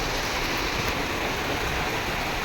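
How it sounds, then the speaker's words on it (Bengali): Downpour roars continuously, a thick wash of rain noise holding at an even level throughout, no voices present. "এদিকে দেখো জোরে বৃষ্টি হচ্ছে"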